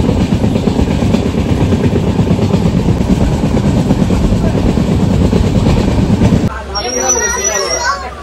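The Kandari Express passenger train running between Kolkata and Digha, a loud, close, steady rumble with rhythmic clatter of the wheels, easing into a quieter interior near the end, with faint voices.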